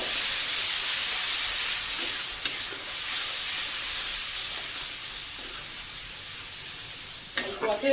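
Spice paste of turmeric and cumin powder frying with a little water for a tilapia fish curry, giving a steady hiss and sizzle with light stirring and a few scrapes near the end, no talk.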